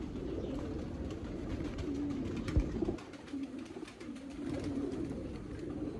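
Pigeons coo softly in a low, repeating murmur with a brief flutter of wings partway through, all fairly close and set against light background rustle.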